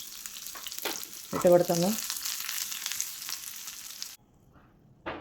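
Shallots and dried red chili frying in hot oil for a chicken curry tempering: a sharp sizzling burst as they hit the oil, then a steady close crackle that cuts off abruptly, with a brief word spoken.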